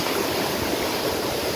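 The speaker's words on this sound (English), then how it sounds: "Another mini waterfall right here." A small waterfall on a hiking trail pours steadily, a close, continuous rushing and splashing of water with no other sounds.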